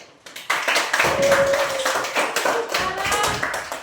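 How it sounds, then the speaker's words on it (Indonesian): Children clapping together for a group in a classroom, with a burst of quick, uneven hand claps that starts abruptly, runs as a busy patter with a few louder strikes, and carries on close and fairly loud. "sekali lagi kita tepuk tangan buat kelompok 1"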